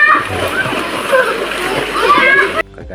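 Children splash and slosh in a cold spring in San Juan, Culasi, Antique, whose water has turned brown, with continuous close water noise and kids' voices mixed throughout.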